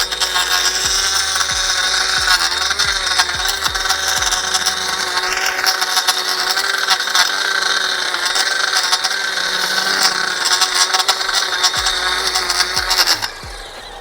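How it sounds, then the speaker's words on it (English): A Ryobi 40V HP string trimmer fitted with an edger attachment runs steadily at close range while edging along a driveway, a loud continuous motor whine with a few sharp ticks and scrapes early on, alone with no talking. "we're going to go ahead and put the edger on and trim out the driveway"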